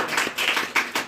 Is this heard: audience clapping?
yes